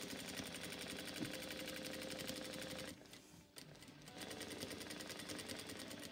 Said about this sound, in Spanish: vamos haciendo nuestra costura recta. Vamos despacito.